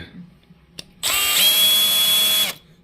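A power driver removes screws from the cover of a Losi Mini LMT RC car, giving one sharp click and then a close, steady high whir lasting about a second and a half before stopping.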